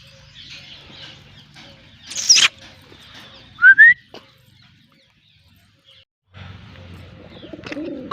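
Domestic pigeons of assorted breeds call close by: scattered faint sounds, a sharp burst, a brief whistled chirp, then low, soft cooing in the final seconds.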